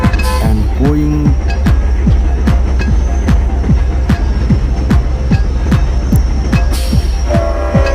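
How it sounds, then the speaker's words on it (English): A running train rolls steadily by, its wheels striking rail joints in a regular clack, clack rhythm over a constant loud rumble, with a brief horn-like tone near the start. "Now watching running trains"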